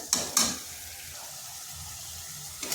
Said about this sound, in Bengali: এখানে কিন্তু মশলাটা খুব ভালো করে কষে নিতে হবে।